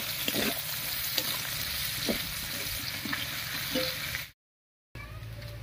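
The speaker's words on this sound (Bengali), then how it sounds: "এবার এর মধ্যে দেব পেঁয়াজ কুচি।" Chopped onion added to dried fish frying in oil, a steady close sizzle with spatula stirring scrapes, briefly cut off by a moment of silence before the frying resumes.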